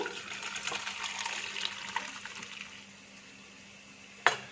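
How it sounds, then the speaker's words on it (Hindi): Boiled macaroni is drained, a rushing pour of water splashing steadily for a few seconds, then tapering into quieter trickles, ending with a sharp clank of the pot. "मैक्रोनी को ड्रेन कर लेते हैं"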